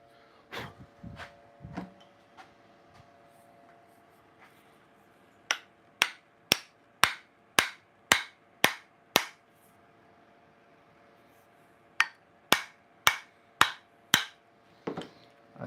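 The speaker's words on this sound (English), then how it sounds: "Get my hammer." Hammer blows ring out in a home garage workshop, a steady run of about eight sharp metallic strikes followed after a pause by another quick series of six, loud and close.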